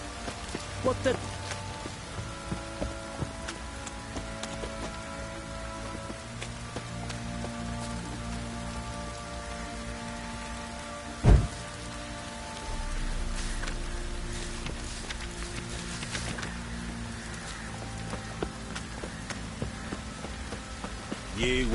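Steady rain patters on a surface throughout, with a low ambient hum beneath, a single sharp thud midway, and faint voices in the background.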